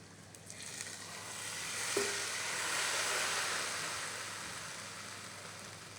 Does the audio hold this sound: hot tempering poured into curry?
yes